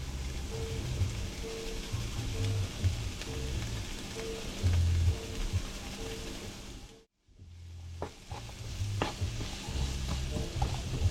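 Jerk seasoning being stirred into a pot of onion, celery and pepper vegetables, a busy scraping and stirring texture with a faint sizzle throughout, broken by a brief near-silent gap midway before the stirring resumes.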